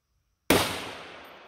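A single sharp rifle shot, fired at a target 750 yards away, cracks out of silence, loud and close, then trails off in a long echoing decay.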